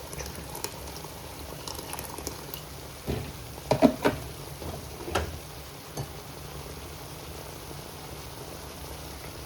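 Liquid boiling in a pot, a faint steady bubbling with a cluster of louder pops and small knocks in the middle, otherwise quiet and even.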